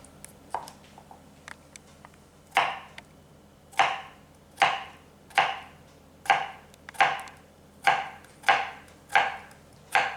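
A knife slicing through a whole cucumber for a vegetable garnish carving, about ten crisp separate cuts landing on a board at an even pace, close and clean with nothing else heard.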